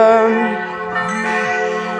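Church bells ringing loudly and close, a rich sustained clanging tone with overlapping peals and a long ringing hum, heard alone without talk.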